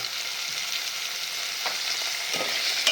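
Potatoes drop into a hot frying pan for millet khichdi, already holding carrots and tomatoes, giving a steady close sizzle with a few soft stirring knocks and no voices.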